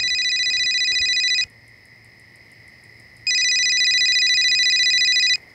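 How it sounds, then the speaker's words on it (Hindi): A telephone rings at night in two long electronic bursts separated by a pause of about two seconds, close and clear over a faint background hum. "तेरा फोन बज रहा है।"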